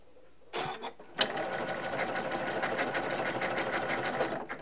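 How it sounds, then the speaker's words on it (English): A Janome M17 sewing machine runs steadily through decorative stitches after a couple of brief starts, a continuous close, loud mechanical whirr that stops abruptly at the end. "I'm just going to stop stitching. I'm pressing that lock stitch button now and it'll flash."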